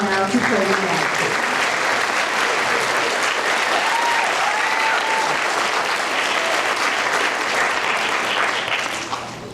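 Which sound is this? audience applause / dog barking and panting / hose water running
audience applause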